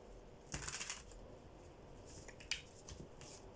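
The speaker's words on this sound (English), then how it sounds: "these cards are shuffling real weird" Tarot cards are shuffled quietly in a few short crisp bursts of riffling and flicking, one cluster early and a sharper snap later, faint and close with no talking.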